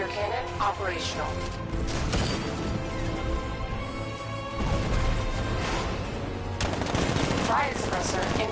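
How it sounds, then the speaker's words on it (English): Tank 60mm cannon firing in Batman Arkham Knight gameplay: loud, dense bursts of rapid gunfire and crashing impacts with mechanical clatter, surging in heavy waves around the start, near five seconds and again near seven seconds, with battle sounds throughout. ".60mm cannon operational."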